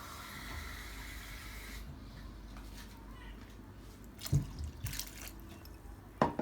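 Water pours steadily into a pot for a couple of seconds while making pakora kadhi, then stops, followed by quiet handling sounds and a few light clinks.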